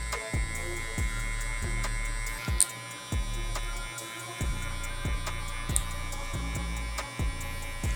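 Electric hair clippers with a .5 guard and the lever open, buzzing steadily while trimming a beard fade, close and loud, with rhythmic dips as the blade passes through the hair, no voices.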